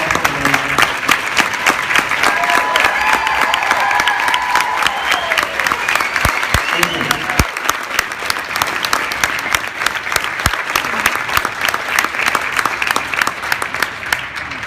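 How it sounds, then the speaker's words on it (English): Loud, sustained applause from a wedding crowd honouring law enforcement officers, firefighters and EMTs, dense clapping that carries on steadily throughout. "Stand up to get a round of applause for them."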